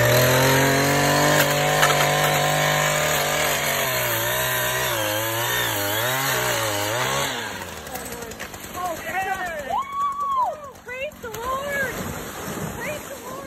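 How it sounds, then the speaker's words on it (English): A loud chainsaw whines and bogs as it cuts ice on a frozen lake to free animals, then drops away to rougher crunching and splashing noises with voices mixed in. "Using a chainsaw to free them without harm was tough."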